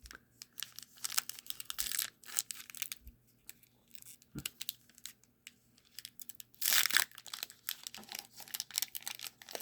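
Panini NBA Chronicles basketball card packs from a 2019-20 blaster box are torn open, with close, crisp foil wrapper crinkling and ripping in irregular bursts and short pauses between handling sounds.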